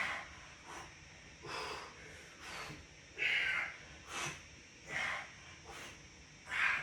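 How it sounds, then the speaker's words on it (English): Loud, rhythmic heavy breathing during a no-equipment full-body workout, about eight sharp, forceful exhales and snorting breaths in steady succession, close and prominent with no talk. "I'm purposely breathing loud so you guys can follow if you're in trouble."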